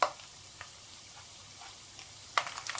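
Peanuts, mustard seeds and a little cumin sizzle in hot oil, a steady soft frying hiss with a few sharper crackles and pops, the loudest burst near the end.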